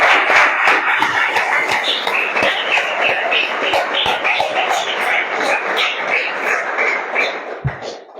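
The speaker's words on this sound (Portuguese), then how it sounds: "as palmas celebram o Senhor" Church congregation clapping along during a worship service, a dense, steady patter of many hands filling the room, continuous and fairly loud throughout with a few sharper claps standing out.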